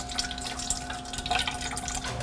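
Water pouring and trickling out of an opened sea urchin shell as it is drained for uni, a steady splashing flow with small drips, close and alone.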